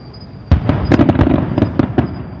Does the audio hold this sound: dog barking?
no